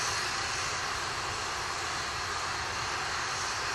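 An Atlas V rocket climbs after liftoff from Cape Canaveral, its engines giving a steady, dense roar that stays loud and unbroken throughout, heard alone.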